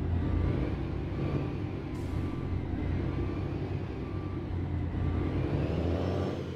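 A heavy truck in American Truck Simulator reverses at a fuel station, its engine making a steady, loud low rumble and drone with a slight rise near the start and end.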